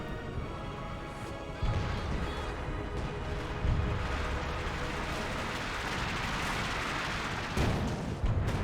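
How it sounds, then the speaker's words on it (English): Frag grenade thrown by Grenadiers exploding in Company of Heroes 2, a few heavy thuds bursting out of dense, continuous battle rumble and crackle, with no clean silence between them. "Oh, frag grenade there from the Grenadiers."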